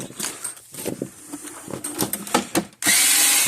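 Screws being worked out of the case of an electric fence energizer with a drill or power driver, close-up scraping and clicking metal bursts, ending in a sustained whirring tool run.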